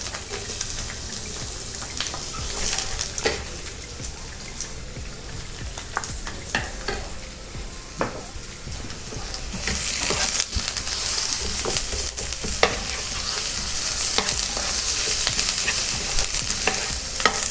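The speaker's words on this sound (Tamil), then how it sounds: "இது லைட்டாக நம்ம வதக்கிட்டு இப்போ வந்து நம்ம ஆனியன் ஆட் பண்ணிடலாம்" Onions sautéing in a pan for a homemade veg Mexican quesadilla, with soft sizzling and repeated scraping stir strokes that grow louder and more continuous toward the end; no voices.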